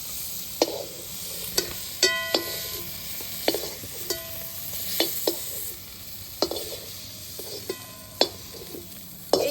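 Mantis prawns fry in a little oil in a kadai, a continuous low sizzle broken by regular sharp clicks and scrapes of a spatula stirring and turning them, close up with no voices.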